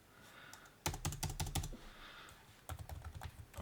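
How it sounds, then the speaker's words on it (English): Keys being pressed on a laptop keyboard, a quick cluster of sharp close clicks followed by a pause and a second burst of tapping, over faint background hiss. "I'm just trying a few different keys on the laptop here just to see if we get any response back."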